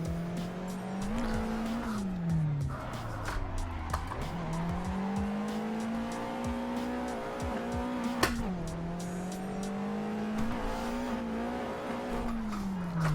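Tires squeal and skid in Assetto Corsa as a race car whips out after a touch of the e-brake, a loud continuous screech over steady engine drone lasting several seconds.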